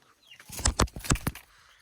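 A farm chicken clucks in a quick close series of four or five loud, sharp calls packed into about a second, with quiet before and after.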